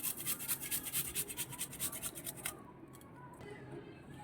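Rapid rhythmic rasping strokes of ginger being grated, for a couple of seconds before stopping, leaving quiet room noise.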